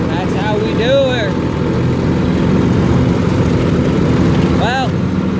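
A tractor engine runs steadily while mowing fence rows, a constant low droning hum close by, with brief voice-like sounds faintly over it.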